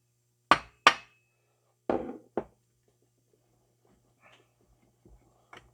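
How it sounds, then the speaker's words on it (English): Brass hammer striking the bearing ends in a Husqvarna 3120 chainsaw crankcase: two sharp close taps, a pause, then two duller knocks, followed by faint small clinks in a quiet workshop. "tap it, the ends with a brass hammer, and that'll free it right up if you have any tight spots"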